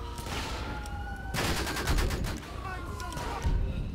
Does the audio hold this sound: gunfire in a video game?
yes